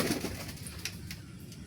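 Pigeons coo softly and continuously inside a cluttered pigeon house where the birds are nesting with eggs and chicks, heard close and without talk.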